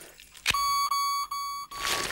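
A hospital nurse call button signal in a Swedish-dubbed Johnny Bravo cartoon sounds as a steady electronic tone broken by a few short pulses, moderately loud over a faint background.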